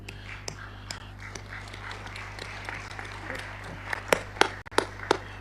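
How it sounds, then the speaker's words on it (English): Sparse applause from ministers at a G20 tourism meeting in Goa, India, scattered claps in a quiet hall that grow into a few sharper, louder claps toward the end over a low hum. "Warm applause again to him."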